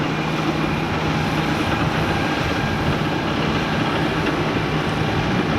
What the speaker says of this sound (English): This is BA flight 8451, arrival from London City and row 190, 38 minutes on the way.